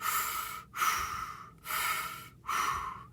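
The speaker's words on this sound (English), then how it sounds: "he puts his own mouth up to the bamboo so he can breathe through the hole that's in the bamboo" Deep breaths drawn through a hollow bamboo tube, four long breathy rushes with short pauses between them, close and clear with no talk.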